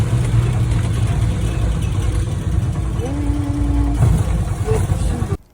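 A tricycle's motor drones steadily through a ride along a Philippine road, a loud continuous rumble with a brief tonal whine partway through, ending abruptly.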